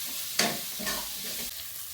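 Capsicum frying in a pan sizzles steadily, with a sharp burst as pieces are stirred and a few softer scraping stirs after it, close and alone.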